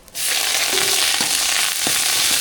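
Loud, steady sizzling of whole spices frying in hot oil for chicken thalicha, a dense crackling hiss with a few sharp pops and clinks throughout.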